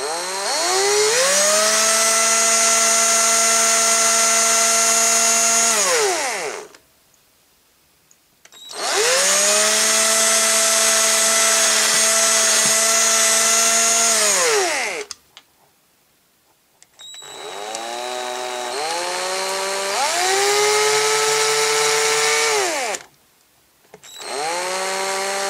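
A power drill turns a 1.5 mm bit into the center of a vintage 12-inch Star Wars Boba Fett figure's range finder. It whines loudly and steadily in several long bursts, with short pauses between them and no talking.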